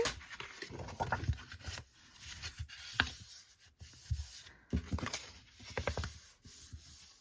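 A paper card for a gift-card pouch is creased by hand, with soft rubbing and scraping strokes in short bursts and pauses, quiet and close.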